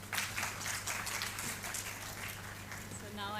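Scattered audience clapping lingers in a conference hall, thinning out over a few seconds, with a voice beginning to speak at the very end.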